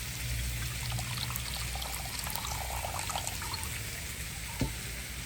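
Tamarind water poured into a tomato curry in a home kitchen, a soft continuous trickling pour under a low background hum, ending with a single small knock near the end.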